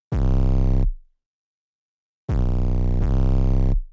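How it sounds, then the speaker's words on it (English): Deep 808 bass in a hip-hop beat with distortion switched on, giving a grimy, harmonically rich tone; one long sustained note, a pause, then two more notes back to back, loud and alone. "I have an automation that turns on here, and it turns on a distortion on the 808."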